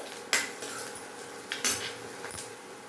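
Beans and carrots stirred through a hot tempering of ginger and garlic in a pan, with a few sharp metal spoon scrapes and clinks at irregular intervals over a faint background.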